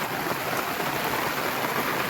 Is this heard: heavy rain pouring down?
yes